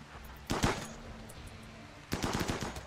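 Two separate bursts of rapid gunfire rattle out in a video game. Each volley is a quick string of sharp shots, with a quieter gap between them.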